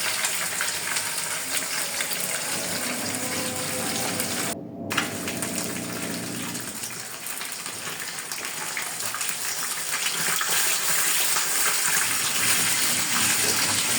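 Tilapia fish frying in very hot oil for a fish fry, a dense, steady roaring hiss close by that briefly cuts out and then resumes a bit louder, with no talking.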